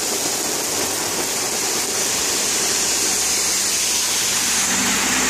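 Heavy rain pours down on a Jerusalem street in a steady, loud, unbroken rush of water close by, with no voices.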